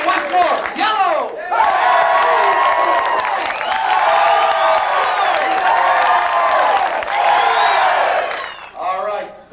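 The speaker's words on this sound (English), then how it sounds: "Let's cheer for the yellow team." A circus-show audience cheers loudly for the yellow team, a sustained roaring crowd of shouts and whoops that swells for several seconds and fades, with brief voices at the start and end.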